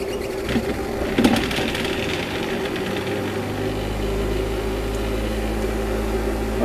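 Two Bedini SSG magnetic rotors, a primary and a satellite coupled by magnetism, spin in sync with a steady mechanical hum and whir, a low drone building partway through, with no talk.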